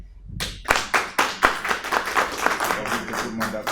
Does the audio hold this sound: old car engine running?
no